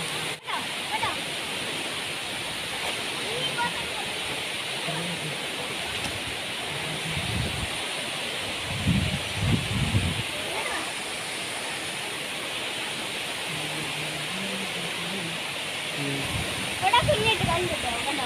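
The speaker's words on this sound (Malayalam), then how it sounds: "നല്ല ഒഴുക്കൂല ഈ വെള്ളം" Water rushes at Thusharagiri waterfall in Wayanad, a constant dense hiss of falling water throughout, with voices talking intermittently beneath it.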